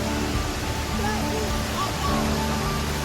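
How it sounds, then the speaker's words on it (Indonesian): A small waterfall in a forest produces a steady, dense rushing wash of falling water, continuous and fairly close. "Nih ada air terjun kecil ya."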